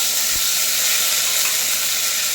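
Loud, steady sizzling of green beans frying in hot oil with cumin, a continuous crackling hiss with a faint clink near the start.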